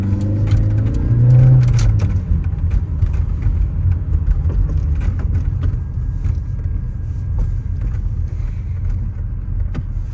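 A 1987 Toyota MR2 cruising at speed on a highway, heard from inside the cabin as a continuous loud engine and road rumble with wind and tire noise, a brief rev swell early on.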